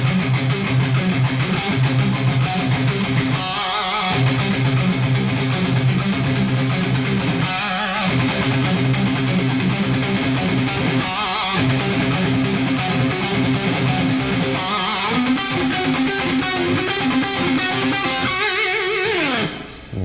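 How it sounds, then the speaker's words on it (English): An electric guitar picked fast with heavy distortion, playing a tight rock riff in dense, continuous runs with brief breaks between phrases, loud and close throughout. "So let me do that a little quicker with some more distortion."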